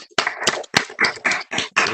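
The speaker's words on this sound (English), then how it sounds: "Let's give a round of applause for our first online chat." Applause opening a college's first online chat session: a short run of sharp, loud hand claps in uneven bursts, close and alone, with no talking over it.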